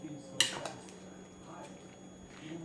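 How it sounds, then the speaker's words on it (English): Enchilada ingredients being stirred in a bowl, with a sharp clink of a utensil against the bowl followed by softer scraping and mixing sounds, close and fairly quiet. "so I'm just going to mix all this up."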